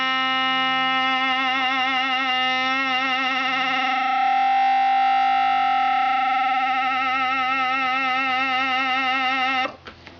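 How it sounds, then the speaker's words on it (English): A sustained talkbox synth tone wobbles with vibrato, the LFO rate shifting faster and slower over time, loud and steady before cutting off abruptly near the end. "you're going to be able to hear it radically change the amount of vibrato"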